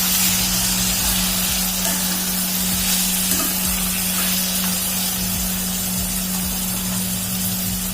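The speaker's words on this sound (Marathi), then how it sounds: "त्यामध्ये आता आपण ऍड करूया मटन। चांगलं फिरून घ्यायचं।" Mutton fries with onions in a pan, a loud continuous sizzle with a steady electrical hum and the scrape of stirring, close to the pan.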